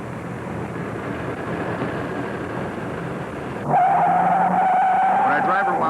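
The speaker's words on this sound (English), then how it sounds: "When our driver wound it up and put his foot in it, she ran up to 30 in 3 seconds flat" A car with a detuned 455 cubic inch V8 and four-barrel Rochester carburetor accelerates hard. A loud, steady engine roar jumps in level partway through into a higher, straining tone.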